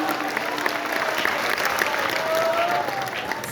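A poetry recital audience at a Bundeli gathering in Bhopal breaks into steady applause, a continuous crowd of clapping heard at moderate distance with faint voices mixed underneath.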